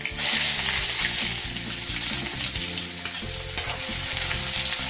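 Two small-to-medium onions frying in plenty of oil, a close, steady sizzle and crackle with faint stirring bumps, no voices.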